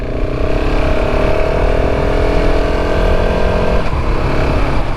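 A KTM 690 SMC R motorcycle rides around the block, its single-cylinder engine droning steadily at a near-constant pitch for the whole stretch, with a brief shift in tone toward the end and no talking.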